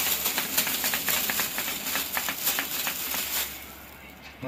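Sprayed water sizzles and crackles on hot tempered glass in close, busy bursts that fade toward the end, with a voice speaking over it.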